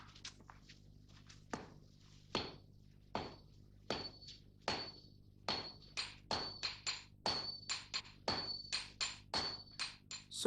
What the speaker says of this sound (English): It is purified by hammer blows and by pouring a liquid made from ash over it.